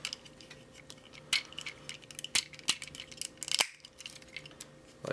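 Plastic parts of a Transformers Energon Deluxe Downshift toy clicking and snapping as the legs separate and pieces fold out, sparse sharp close-up clicks in an irregular rhythm with no voices.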